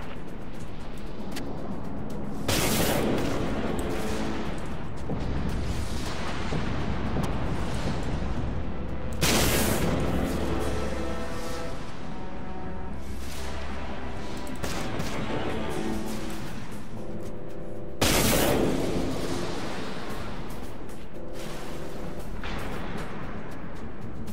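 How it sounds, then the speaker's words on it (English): Naval support gunfire in the warship game Dreadnought: three heavy, booming salvos spaced several seconds apart, each a loud blast trailing into rumble over a constant engine-and-battle drone. "Need support fire at these coordinates."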